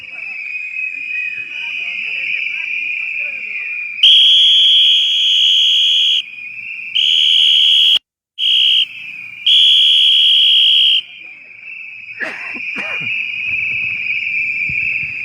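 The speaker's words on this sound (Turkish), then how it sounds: "Düdüklerimizi çalıyor" Piercing whistles blast in several long bursts at a street protest against price rises in Ayvalık, Turkey, over a constant high-pitched drone and crowd noise, with a brief pause between blasts.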